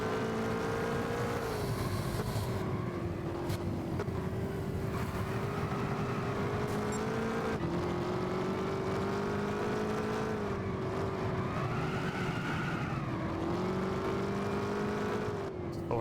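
A Ford GT40 race car engine in the Gran Turismo 6 video game drones steadily for the whole stretch. The pitch rises and falls through gear shifts and revving, loud and continuous, with no talk.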